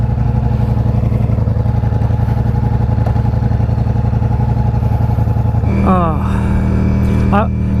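A 2023 Ducati Diavel V4 motorcycle engine is cold-started and settles into a loud, close, throbbing idle, then gets two quick sharp revs near the end.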